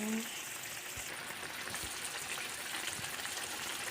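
Tilapia sautéing in a pan for sinigang gives a steady, moderately quiet sizzle and hiss that runs the whole time, with a few soft low knocks.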